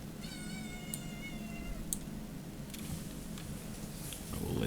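A cat meows once, a drawn-out clear cry near the start, followed by faint clicks over a low background hiss.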